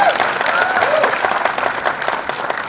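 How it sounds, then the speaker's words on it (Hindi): Audience applause at a birthday celebration concert, a dense, loud, sustained clapping from a large crowd with some voices mixed in. "दोस्तों जोरदार तालियां।"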